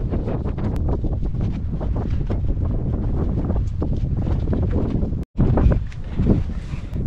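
Strong wind buffets the microphone outdoors beside an 80-foot JLG 80HX boom lift under repair, a steady loud roar with constant gusting rumble that cuts out for a split second near the end before resuming.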